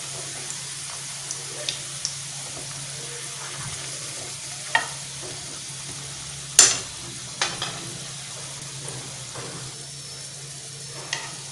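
Rodage flatbread fries in a pan with a steady, moderate sizzle, broken by a few sharp utensil clinks and taps scattered throughout.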